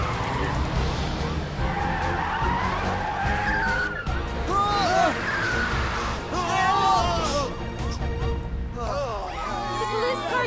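A cartoon car engine roars at speed with tires squealing in a skid, loud and continuous, while voices shout over the racing noise as a booster activates.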